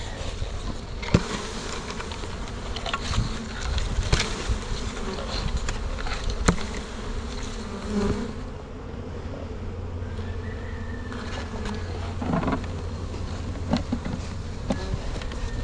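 Steady buzzing of many bees being moved into a hive fills the air, a dense swarm hum close by with occasional individual insects zipping past the microphone.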